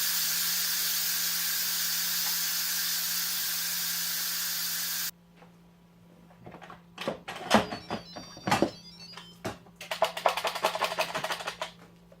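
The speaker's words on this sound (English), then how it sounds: "then do a quick release of the pressure" An Instant Pot quick pressure release during liner cleaning with vinegar: a loud, steady hiss of escaping steam cuts off abruptly, followed by clicks, clatters and rustling handling noises.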